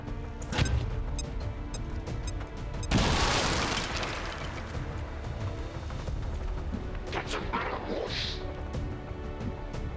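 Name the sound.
grenade explosion in the video game XCOM 2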